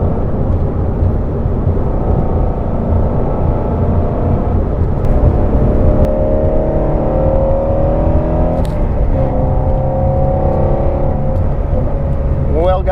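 Shelby GT350R Mustang driving on the road, a steady close engine and road drone throughout with slight rises in pitch, likely from the cabin, with no clear talk over it.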